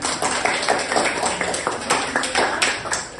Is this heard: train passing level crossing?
no